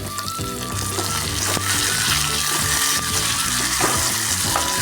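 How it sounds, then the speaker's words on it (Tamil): Tomatoes sauté in a pan for a village-style plantain fish fry, giving a steady, close, fairly loud sizzle with occasional stirring scrapes and no talking. "தக்காளி நல்லா வதங்கட்டும்"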